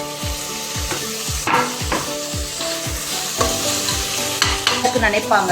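Tomato and onion cook with salt in a pan after ginger and garlic, loud and close: a steady sizzle with quick rhythmic spoon scrapes about twice a second, and a brief spoken word.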